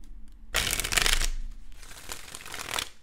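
Tarot cards riffle-shuffled in a burst of crisp flutter, then a longer, softer run of shuffling close to the mic, with no talking.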